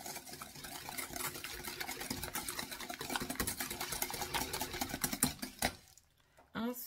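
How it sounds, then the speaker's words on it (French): A whisk beats eggs, milk and sugar in a bowl with a rapid, rattling churn that runs steadily and fairly close, then stops briefly near the end before a short resumption. "les œufs, le lait, le sucre. Je vais bien fouetter."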